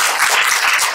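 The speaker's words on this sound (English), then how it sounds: "So please give a clap" A brief burst of audience clapping at a book launch talk during the Sharjah Book Fair, dense and close, lasting about a second.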